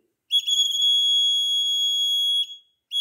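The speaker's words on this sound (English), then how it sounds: "the LED is turned on and the buzzer is giving the buzzing sound" A buzzer in a BC547 transistor and photodiode fire alarm circuit gives one loud, steady high-pitched electronic tone for about two seconds, cuts off, then starts again at the end, with no other sound.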